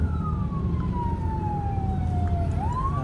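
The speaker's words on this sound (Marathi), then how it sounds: "एक ॲम्ब्युलन्स येते कुठून तरी." An ambulance siren in Bangkok traffic gives one long, slowly falling wail that turns upward near the end, heard at moderate distance over a steady low rumble of road noise.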